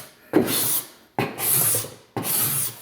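A sharp hand scraper drawn across an oak hardwood floor to remove edger marks, making three close, even rasping strokes, each about half a second to a second long with short pauses between.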